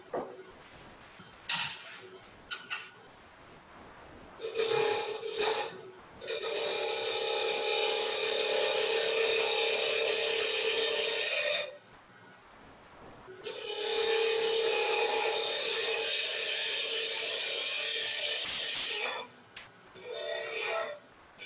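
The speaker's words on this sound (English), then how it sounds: "what I like about this hunter tool is you can ride the bevel along." A Hunter tool riding the bevel on wood spinning on a lathe makes long, steady scraping and cutting passes, broken by short pauses and brief lighter touches.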